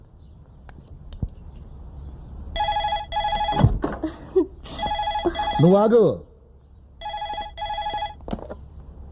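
A telephone rings in short repeated bursts of a bright electronic bell, close and loud, with someone speaking briefly between the rings in a comedy scene.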